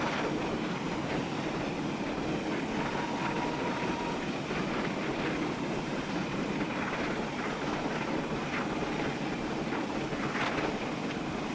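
A steam locomotive in Train Simulator 2015 running at nearly 70 miles per hour, a continuous loud rumbling roar of wheels and exhaust with a faint whistle-like tone, no talking.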